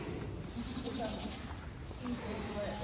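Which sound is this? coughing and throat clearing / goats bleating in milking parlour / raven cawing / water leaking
goats bleating in milking parlour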